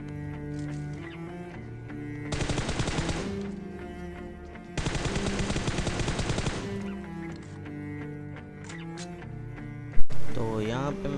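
M4 rifle gunfire in the PUBG Mobile battle royale game, two sustained bursts of rapid automatic fire over steady game music, followed by a sharp single impact near the end.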